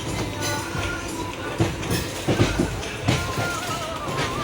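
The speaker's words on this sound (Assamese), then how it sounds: "আমাৰ ট্ৰেইন চলিলে।" A train rolling on rails on a journey from Delhi to Haridwar, with a steady low rumble and a few soft clanks of the wheels over rail joints, heard close from inside the carriage.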